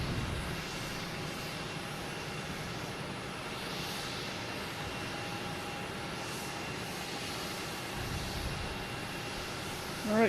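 A British Airways Boeing 787 jet near Boston Logan Airport gives a steady, moderately distant engine roar that holds evenly for about ten seconds, swelling slightly right at the end.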